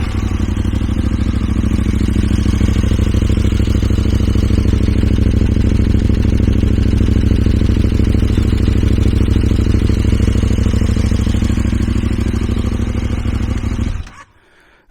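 A KTM 1290 Super Adventure R motorcycle with an Arrow slip-on exhaust runs close up, a loud steady engine rumble that holds for about fourteen seconds and then cuts off abruptly.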